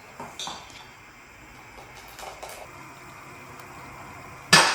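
A utensil stirring a pot at close range, heard as faint scraping and light metallic clinks against the vessel, ending in a sharper clatter.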